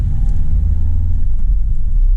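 A Citroen Berlingo drives down a road, its engine a steady low rumble heard from inside the cabin, loud and continuous with no talking.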